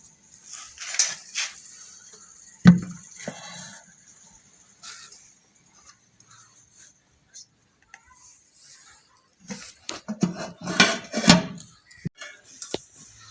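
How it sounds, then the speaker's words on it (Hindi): A cooking pot (handi) of fish curry is lifted off a home stove with a few metallic clanks and knocks, then a quiet stretch before a denser burst of clattering pot and utensil sounds near the end, with speech heard around it. "अब हंडिया उतार लेंगे चूल्हे से।"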